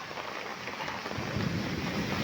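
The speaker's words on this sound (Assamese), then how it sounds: "ইমান জোৰে বৰষুণ দিছে" Heavy rain pours down outdoors after hot days, a dense, loud, steady hiss and patter that swells slightly with no voices.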